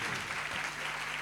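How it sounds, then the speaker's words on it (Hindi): Congregation clapping together in a church convention service, a steady broadband wash of applause that holds at an even level for the whole short stretch. "हालेलुया, ताली बजाएंगे"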